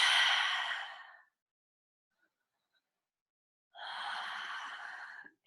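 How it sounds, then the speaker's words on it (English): Two slow, deep breaths are drawn close to the microphone, each a soft airy rush lasting over a second, separated by a stretch of near silence during a guided meditation. "So taking some deep breaths."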